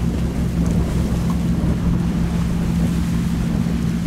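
Super Dong speedboat engine roars steadily out on the water, a loud continuous low rumble with wind and water noise and no talking.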